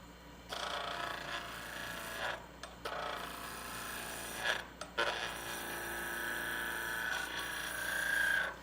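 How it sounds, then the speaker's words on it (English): Skew chisel taking planing cuts on a lidded box blank spinning on a wood lathe, a steady scraping, rasping shear that runs continuously with a few brief pauses as the tool lifts off the wood. "So now I'm just gonna come in with some planing cuts to true it up"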